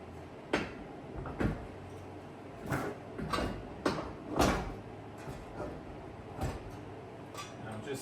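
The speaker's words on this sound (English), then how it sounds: "what I did was I just latched that one part of the door" Latches on Combat Off Road Mission tube doors for a Ford Bronco snap shut in a string of sharp, close metallic clunks and clicks, spaced irregularly over several seconds.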